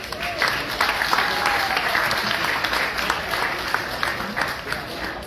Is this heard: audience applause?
yes